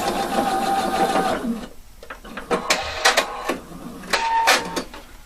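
A sewing machine stitches fabric pieces with a one-centimeter seam allowance, first a steady fast run, then a series of short stop-start bursts, close and with no talk.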